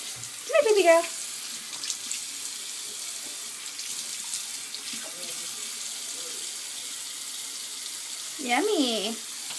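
Water runs steadily from a sink tap, a continuous close splashing hiss, with brief bird-like squawks and a person's voice cutting in at the start and end.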